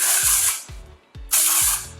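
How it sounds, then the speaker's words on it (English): Texturizing hair spray from an aerosol can is misted onto the mid-lengths and ends of hair while styling beach waves, in two loud, close hissing bursts separated by a short pause, with clicks of the nozzle. "I'm going to apply a little bit of the texturizing spray."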